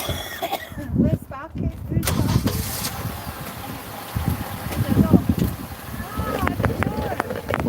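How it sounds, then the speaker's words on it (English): A car engine cranks and starts outdoors, then runs with a rough rumble while people talk nearby throughout. "I'm going to move the car"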